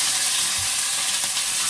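Steady, dense sizzling of food frying in a hot pan, continuous and fairly loud, with faint stirring scrapes underneath.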